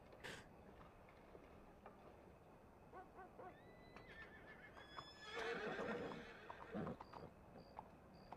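Inside the video game Red Dead Redemption II, a horse gives a clear whinny midway, amid faint hoof clip-clops and scattered ticks, all fairly quiet, with a brief chime-like tone near the end.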